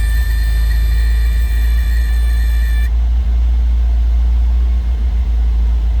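A 1975 MG MGB convertible's engine starts and settles into a steady, loud idle, a constant low rumble heard up close with no talking.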